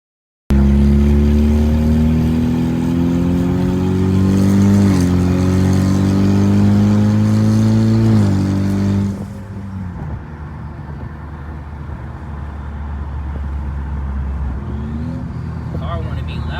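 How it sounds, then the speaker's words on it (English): The engine of an S550 Mustang revs loudly and climbs in pitch for about nine seconds, then drops to a rougher, quieter idle rumble that carries on to the end. "Car wanna be loud today."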